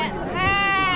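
Sheep at a large goat and sheep market in Chakan, Maharashtra, giving one loud close bleat that swells and holds for about a second.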